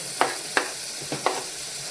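Green chillies dropped into hot oil for a snail curry, sizzling softly with a few sharp spits and stirring clicks over a steady frying hiss, no talk.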